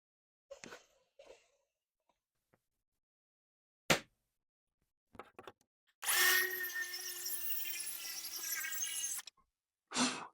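A power saw slices an MDF sheet roughly in half, running as one loud steady three-second burst of cutting noise, with a few short knocks and handling sounds before and after it.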